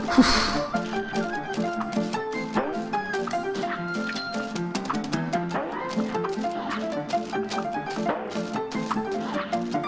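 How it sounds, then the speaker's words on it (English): A barking trampoline in the video game Cuphead gives repeated yappy dog-like barks over busy ragtime-style game music, quick bursts rising and falling throughout. "I love how the trampoline barks."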